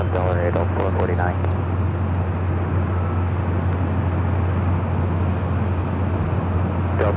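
A Delta airliner takes off from runway 24 left at LAX, its engines a loud, steady roar throughout, with a short burst of radio chatter at the start.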